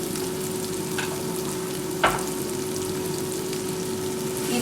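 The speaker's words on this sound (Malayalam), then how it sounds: "ഇതിൻ്റെ പച്ചമണം പോകുന്നവരേക്കും ഒന്ന് നന്നായിട്ട് വഴറ്റിയെടുക്കണം" Ginger garlic paste sautéing in a pan, a dense constant sizzle with one brief spoon scrape near the middle, close and even throughout.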